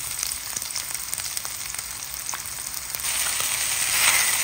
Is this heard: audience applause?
no